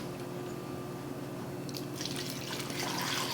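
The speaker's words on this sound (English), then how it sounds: "I'm gonna add some water to this." Water pours into a cooking pot holding hog maw for a Southern Thanksgiving dinner, a steady close splashing stream that grows brighter and fuller toward the end, with no talk.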